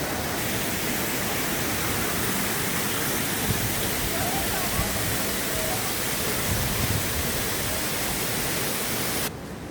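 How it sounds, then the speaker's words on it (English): Steady roaring rush of a waterfall in Peru's Amazon region, a dense, continuous wash of falling water filling the whole clip at close range with no pauses. "We're going to do 3 waterfalls in one day."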